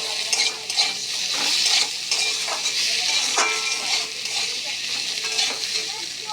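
A spice mixture with turmeric fries in a pan and is stirred, so a continuous sizzle runs under repeated scraping strokes close to the listener, with no talking.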